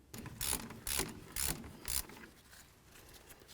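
Ratcheting wrench backing out a brake caliper slider bolt on a 1999-2007 Ford Super Duty F-250 front wheel, four short clicking bursts close by, each about half a second apart, then quiet.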